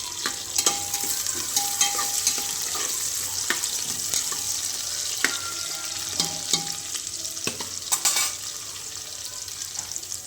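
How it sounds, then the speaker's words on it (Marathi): Green chillies fry in hot oil in a pan for khichdi, a constant close sizzle broken by scraping stirs and clinks of a utensil, with no talk. "तर आपण ह्याला तळू देऊ"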